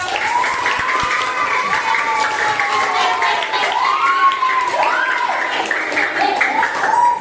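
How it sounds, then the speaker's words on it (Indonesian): Classroom applause for a student group after a presentation on Hindu-Buddhist style mosque architecture, a steady wash of clapping from the class with children's voices and shouts mixed through it for the whole stretch. "beri aplaus buat kelompok 3"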